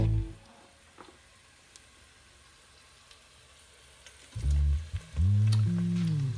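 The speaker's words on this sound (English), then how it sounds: "I just put them in here into the hot oil" Steak flautas are lowered into hot oil and fry with a soft sizzle, broken by louder bubbling bursts near the end as they hit the oil, with clattering from the fryer.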